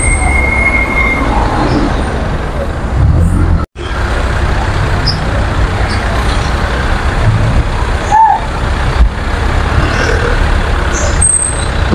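Heavy road traffic along Aurora Boulevard in Cubao, Quezon City, a steady loud rumble of engines and vehicles heard from the roadside while walking, with a brief drop and occasional squeals and hisses like air brakes rising over the din.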